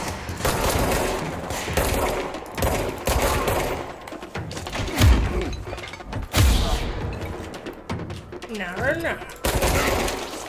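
Enemy gunfire in the video game Control: repeated loud bursts of shots and heavy thuds come in waves, mixed with game effects while people talk over the action.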